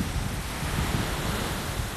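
Ocean waves roll onto a beach on a dark, rainy evening, a steady broadband wash of surf mixed with wind buffeting the microphone, continuous and fairly loud with no voices.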